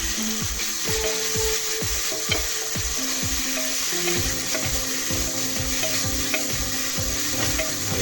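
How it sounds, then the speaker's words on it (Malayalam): Ginger and garlic sautéing in a pan for a home-style chicken curry, a steady close sizzle with repeated scraping stirs of a spatula throughout, no voices. "ഇഞ്ചിയുടെയും വെളുത്തുള്ളിയുടെയും ആ പച്ചമണം മാറുന്നത് വരെ ഒന്ന് വഴറ്റിയെടുക്കാം"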